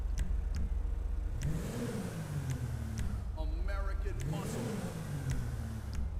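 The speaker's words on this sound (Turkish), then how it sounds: "Abi abart egzoz." A modified Tofaş car exhaust revs in the video game GTA V, rising and falling twice over a steady engine drone while someone talks over it.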